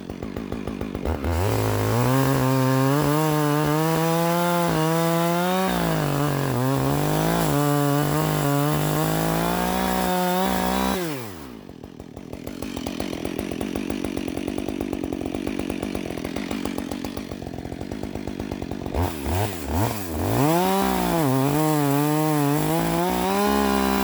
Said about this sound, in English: I need to start to cut the trunk from the bottom.